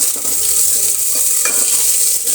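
Sliced onion and curry leaves fry in hot oil for a Brahmin-style bottle gourd sambar, a loud, close, steady sizzle with occasional stirring scrapes and no talking.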